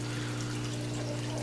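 Wastewater trickles out of an aquarium sump in a DIY fishroom drip water-change system, a brief steady dribble over a constant low pump hum.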